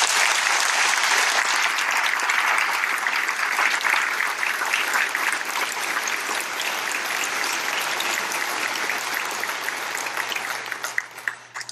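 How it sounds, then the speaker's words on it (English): Loud, dense audience applause at a Ranger graduation ceremony for RASP 1 class 09-14, a steady wall of clapping that holds for the whole stretch and thins out slightly near the end. "Please join me in a round of applause for these men."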